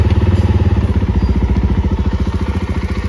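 A 2024 Jawa 42 Bobber motorcycle engine running just after starting, loud and close, with a steady rapid thumping idle pulse that repeats evenly throughout.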